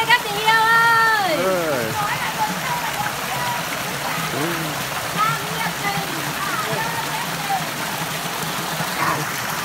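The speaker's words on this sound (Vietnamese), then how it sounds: "Suối đây các bạn." Water in a forest stream rushes and splashes continuously at close range, a steady broad wash, while people chat over it, loudest at the start.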